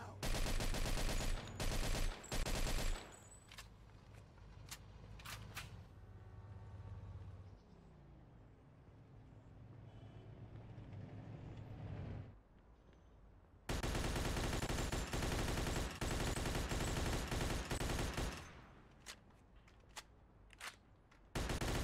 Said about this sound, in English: Got some nut job here shooting a gun.